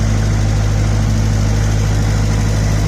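A diesel generator engine runs steadily at close range, a loud continuous idling drone with strong low harmonic hum and no breaks.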